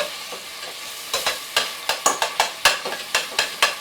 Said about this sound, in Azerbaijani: gördüğünüz kimi yanmadan güzel soğan qovrulmuşu əldə etdik